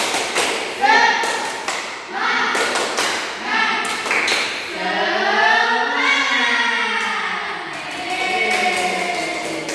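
A primary school class stands and performs a rhythmic spirit clap routine in an Indonesian science lesson, bursts of group taps and thuds in short patterns mixed with children chanting and a teacher's voice.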